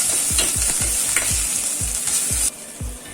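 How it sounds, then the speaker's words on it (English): Green chilli paste sautéing in a pan for khichdi gives a steady close sizzle, with regular scraping stirring strokes about every quarter second and no voices. "And saute it for 1 minute till everything cooks well."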